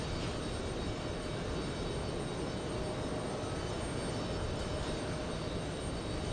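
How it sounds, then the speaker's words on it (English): A Delta Boeing 767-400 takes off from JFK in wind, its engines a steady broadband roar that holds level throughout with no talk. "Should be lifting off any second, traveling at 140 knots."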